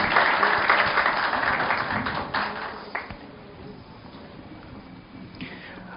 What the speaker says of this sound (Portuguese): Maurício Meirelles e Marconi Drummond, para quem eu peço aplausos de boas-vindas.